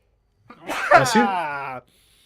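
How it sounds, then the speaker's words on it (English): A man sneezes once up close during a podcast discussion, a sharp voiced burst followed by a drawn-out harmonic exhale lasting about a second. "Hold on, I'm gonna sneeze."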